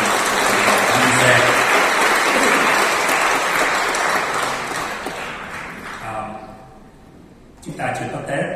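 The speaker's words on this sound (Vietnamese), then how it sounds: "xin quý vị cho một tràng vỗ tay để chân thành cảm ơn cha trưởng cũng như ban mục vụ." A Vietnamese Catholic congregation at a year-end thanksgiving Mass in Melbourne, Australia claps in a dense, sustained round of applause that fades after about six seconds, then briefly picks up again.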